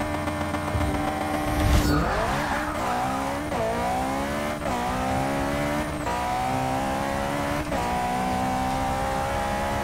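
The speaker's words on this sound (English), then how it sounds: "Alright, I'm just gonna redline it" Race engine of a 700HP 1965 Mini Cooper S in Forza 6 screaming toward redline, a loud tire-squealing launch followed by repeated rising revs cut by sharp gear changes, no talk.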